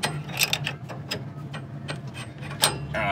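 A ratchet wrench tightens a bolt with a rapid run of close, dry mechanical clicks, the pawl ticking at a steady pace with a few louder snaps and no talking.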